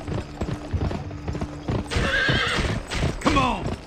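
Hooves clip-clop at a brisk pace and a horse whinnies loudly in GUN, with the hoofbeats running under a voice early on and the neighs rising clearly near the end.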